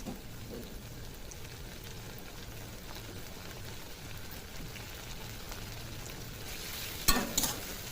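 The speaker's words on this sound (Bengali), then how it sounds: "প্যাজের সাথে সাথে চিংড়ি মাছটাও ভাজা হয়ে যাবে" Prawns fry with chopped onions in a pan, giving a soft, even sizzle that runs quietly throughout, with a brief clatter of stirring near the end.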